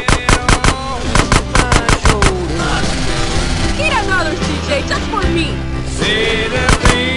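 Rapid bursts of gunfire ring out right beside the microphone, sharp loud cracks in quick succession at the start and again near the end, with a shouting voice and harsh noise between them.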